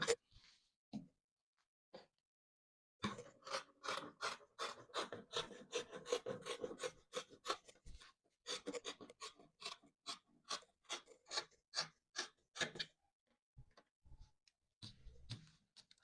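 Scissors snipping through fabric while cutting out a T-shirt dress, close and quiet, a quick run of steady rhythmic cuts followed by slower spaced snips, with no talking.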